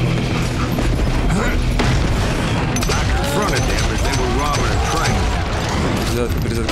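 Gun reloading and gunfire in the Western shooter Call of Juarez: Gunslinger, dense mechanical clacks and ratcheting mixed with booming shots and game music, loud and continuous throughout.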